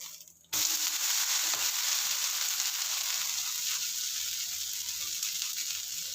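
A tomato dosa cooks on a hot pan, giving a steady, close sizzle that bursts in suddenly after a quiet start and keeps on alone without any talk.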